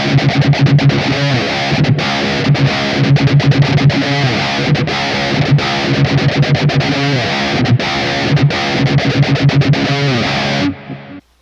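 Sped-up electric guitar riff from a metal song: heavily distorted, fast chugging palm-muted rhythm with steady accents, loud and continuous, stopping abruptly near the end.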